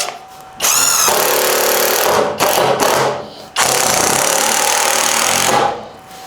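An Erbauer cordless drill driving 70mm Power Fast screws into wood on a bench, with two loud, close bursts of motor whine and grinding of about two and three seconds, separated by a brief pause.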